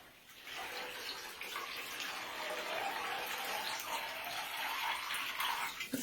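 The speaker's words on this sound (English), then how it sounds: "rinse it out" Water rinsing through a synthetic cosplay wig and its fibers, a steady close rushing spray like a tap or shower running continuously without pause.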